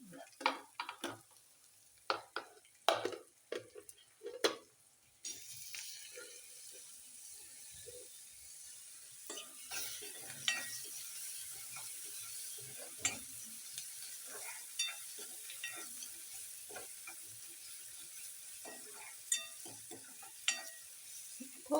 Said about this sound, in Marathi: टोमॅटो घेते टाकून